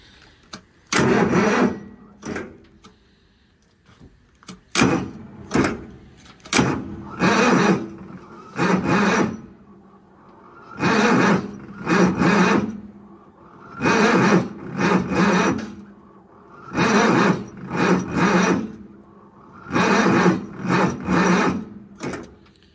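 Repeated cranking bursts from the engine of a unit bought sight unseen at auction, started with a three-position switch set to start; loud, evenly spaced surges of several seconds each with short pauses between, and no talk.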